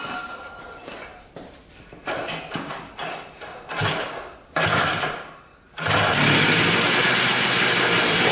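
An abandoned three-wheeler's engine cranks in repeated rhythmic bursts, stumbles, then catches and runs loudly and steadily in a dense, close roar, with no one talking.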